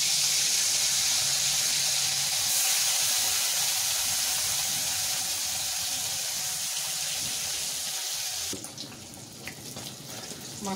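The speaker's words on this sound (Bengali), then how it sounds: "প্রথমে মাছটা তেলে ভেজে নিচ্ছি" Fish fries in hot oil in a pan for Bengali fish kalia, a loud, steady, close sizzle that runs for several seconds and then drops off sharply, with no talking.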